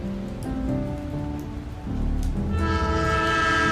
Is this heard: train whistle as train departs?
yes